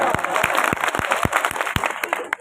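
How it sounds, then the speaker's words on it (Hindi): Crowd at an outdoor poetry recital during a religious discourse gathering claps in a dense, close burst, with a few louder rhythmic claps standing out over the steady patter. "तालियां हो जाइए साहब।"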